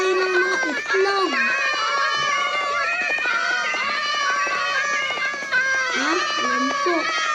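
Several cats meow outdoors, many overlapping high, wavering calls in a near-continuous chorus, loud and close, with children's voices mixed in.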